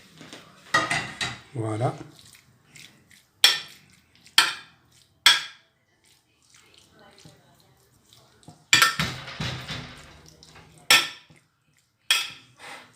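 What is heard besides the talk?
minced meat added to a pan and stirred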